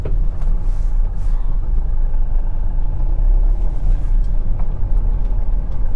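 A Toyota Etios car rolls along in second gear with no throttle, giving a steady low road rumble and engine hum from inside the cabin, heard alone.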